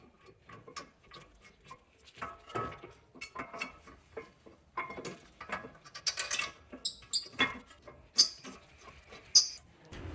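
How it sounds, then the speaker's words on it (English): A ratchet tightens 16 mm brake carrier bolts on a 2011–2017 BMW X3 F25 front brake, giving close, irregular bursts of rapid metallic clicks that grow louder and sharper toward the end. "we've tightened our carrier bolts, which are the size 16 millimeter."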